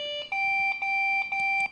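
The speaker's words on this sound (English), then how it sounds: "The 4 beeps are equal length, but 3 are one tone, and then the 4th one's a different tone." A computer sounds its startup beep code: four equal-length electronic tones, the first three at one pitch and the last one different, clean and evenly spaced, with no talk.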